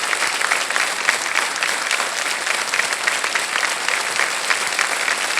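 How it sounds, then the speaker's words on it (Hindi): Steady applause from a studio audience on the Hindi quiz show Kaun Banega Crorepati, loud and continuous with dense clapping throughout and no speech over it. "तालियां बजते रहे"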